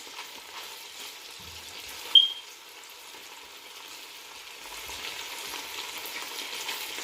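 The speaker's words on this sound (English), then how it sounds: "so we're gonna keep frying" Steady frying sizzle of meatballs crackles in hot oil throughout, with a brief sharp clink partway through and the sizzle swelling slightly toward the end.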